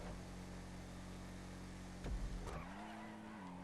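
Bravado Gauntlet Classic muscle car in GTA 5 droning at steady engine pitch, then a sharp thump and brief squeal before the engine note climbs and settles as it accelerates, heard alone without talk.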